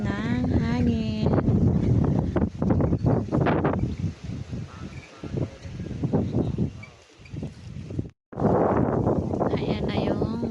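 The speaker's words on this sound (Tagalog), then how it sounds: "lakas ng hangin" Strong wind buffets the microphone in gusts on a Philippine shore where a new plywood bangka is being built. Heavy low rumbling runs throughout, with people talking over it.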